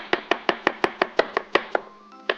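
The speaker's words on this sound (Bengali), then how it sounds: "এই অনিয়নটাকে আমরা মাঝখান থেকে একটু কেটে নিব" A knife chops an onion on a board in about eleven crisp, evenly spaced strikes close to the listener, with a short pause before a final chop.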